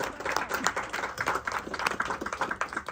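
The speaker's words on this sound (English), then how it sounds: "let's give you guys a round of applause" A small group of people gives a round of applause outdoors on an African safari outing, with a steady patter of overlapping hand claps at moderate distance and fairly soft level throughout.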